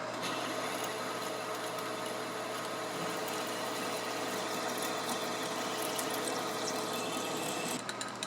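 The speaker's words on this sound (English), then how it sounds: "Now it's time to get it parted off." A lathe parts off a hardened 4140 steel pin, a steady faint machine hum with continuous hissing noise and a few small ticks near the end.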